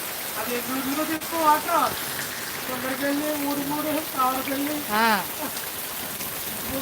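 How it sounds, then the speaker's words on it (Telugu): Steady rain pours down in a continuous hiss, with a voice speaking intermittently over the downpour. "ఈ వర్షం తగ్గడం లేదు"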